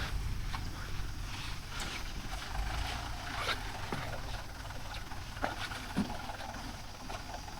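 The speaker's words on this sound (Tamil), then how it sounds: "மழையே விட மாட்டேங்குது." Steady rain patters continuously at a job site where a JCB 3DX backhoe and a Mahindra 415 DI tractor are loading soil, a faint, even hiss with scattered light drips and taps.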